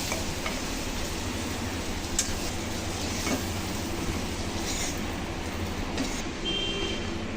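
Shrimp fry in hot oil in a wok, giving a steady close sizzle with faint clinks of stirring over a constant crackle.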